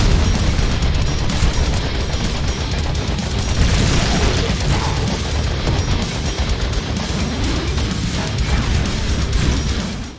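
Dense, continuous explosions and rapid gunfire from a Contra-style run-and-gun video game, loud and relentless throughout with booms layered over constant shooting.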